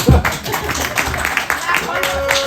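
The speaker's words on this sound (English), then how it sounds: "Clap for my testicles, please." A stand-up comedy audience at a benefit show claps in a scattered burst of applause, moderately loud and uneven, with a voice faintly mixed in.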